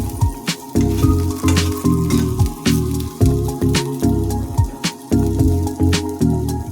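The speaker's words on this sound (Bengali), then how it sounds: "এখন আমি এইভাবে ভেজে নিলাম।" An egg fries in a hot pan on low-medium heat, giving a steady close sizzle with soft squishy, pulsing bursts that rise and fall in a regular rhythm throughout, with no talking.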